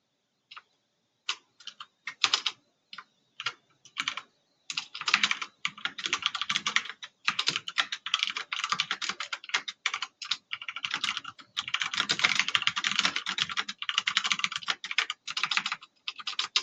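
Fingers type on a computer keyboard close by, starting with a few scattered key presses and building into dense, quick bursts of clicking with short pauses between runs and no talk.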